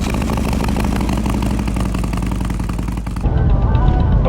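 A Harley-Davidson motorcycle engine idles close by at a group Sunday morning ride, a steady, loud rumbling throb that swells slightly heavier near the end, with no clear speech over it.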